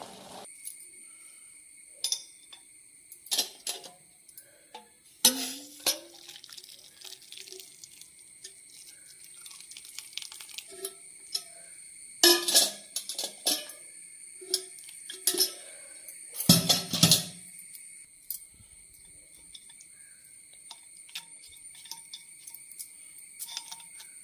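Boiled tulsi and panikoorka herbal decoction being strained, with scattered drips and short liquid splashes against a quiet background, some bursts heavier than others.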